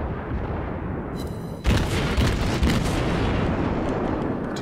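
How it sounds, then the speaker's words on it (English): Naval artillery firing armor-piercing shells in the World of Warships game, a heavy boom about a third of the way in followed by rumbling blasts over constant loud engine and sea noise. "our armor-piercing rounds tend to do nothing"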